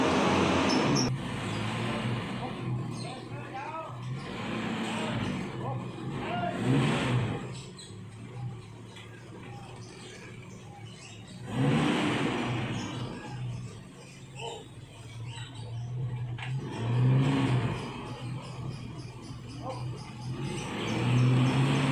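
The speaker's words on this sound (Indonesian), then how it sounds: "Mobil habis narik pasir." A car that had just been hauling sand revs its engine near a home garage ramp under construction, with the engine noise swelling and easing in several waves over a steady background.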